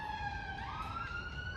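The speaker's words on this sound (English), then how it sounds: "the sirens are irritating" A police siren wails faintly from outside, holding a steady rising and falling tone against a low background rumble.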